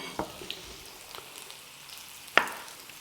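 Hot oil sizzles softly in a pan while preparing Bodrum çökertme kebab, a low steady hiss with a couple of brief spatters and clinks, faint and close.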